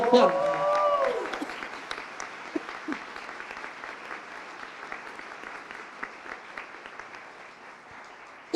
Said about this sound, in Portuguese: Mais uma salva de palmas para a Analice